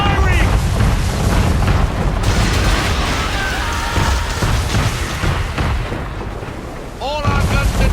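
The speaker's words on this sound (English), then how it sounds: "Man of war's firing!" Heavy cannon fire from a man-of-war warship in Assassin's Creed III, loud booming blasts rolling continuously under shouted voices and battle noise, with a fresh burst near the end.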